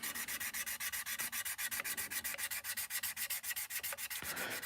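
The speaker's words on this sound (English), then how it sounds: "It does take quite a bit of sanding." Plastic seam on an Airfix Concorde model kit being sanded with flexi files: fast, even back-and-forth scratching strokes, close and steady, with no other sound.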